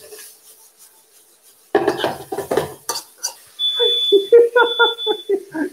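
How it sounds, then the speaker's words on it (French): A kitchen smoke alarm set off by steam and smoke while chicken chaomen is cooked, emitting a steady high beep pattern in two long bursts, loud and close, amid clattering pots and cutlery and people talking. "C'est l'alarme incendie avec la vape,"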